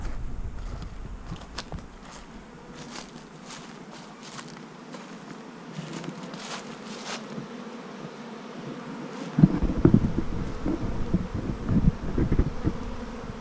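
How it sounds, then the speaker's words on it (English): Honeybees buzzing steadily around a hive while boxes are being filled, a continuous close insect drone with a few soft footsteps and handling knocks growing louder toward the end. "I got a hive over here. What is it doing? I hope it's not swarming."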